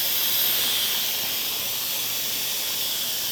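Steam hisses loudly and continuously from an Instant Pot's pressure release valve after cooking Salisbury steak, a steady close-up rush with no break.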